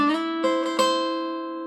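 Guitar picking pattern for a song: a few quick, bright plucked notes in succession that ring out and sustain into a slowly fading chord, played close and alone.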